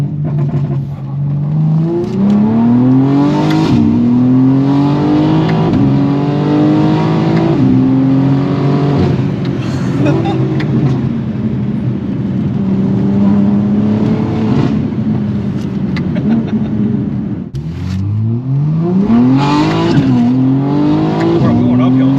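A BMW M4 G82 Competition accelerates uphill, its engine intake droning loudly and rising in pitch through several gear pulls with brief dips between shifts, close and continuous throughout.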